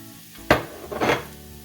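Ground beef, mushroom and onion frying in a skillet, with a sharp sizzle burst followed by a second swelling hiss as the food is stirred, close and fairly loud, with no talking.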